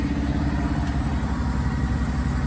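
A tractor engine runs steadily at a constant idle-like drone, close and loud, with no change in pitch and nothing else standing out.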